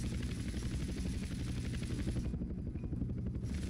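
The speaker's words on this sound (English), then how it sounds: "Helicopter takeoff." A helicopter taking off in GTA San Andreas, a loud steady rotor thump and engine drone running throughout, with the high hiss cutting out briefly near the end.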